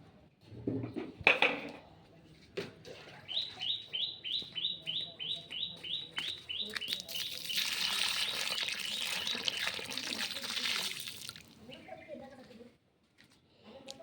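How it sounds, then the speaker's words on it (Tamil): Water poured onto a newly planted rose plant in a garden, a gushing splash building midway and running several seconds, with birds chirping in rapid repeated notes before it. "தண்ணி ஊற்றுவோம்."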